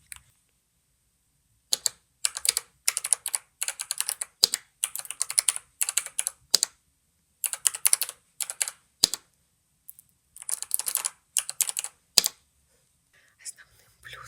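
Bursts of typing on a computer keyboard, quick clusters of crisp key clicks separated by short pauses, close and intimate in a quiet room, with faint whispering at times.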